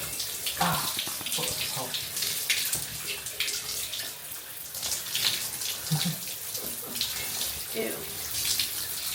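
Running water rinses fake tan off after a men's physique bodybuilding show, a continuous close splashing rush with brief spoken reactions over it.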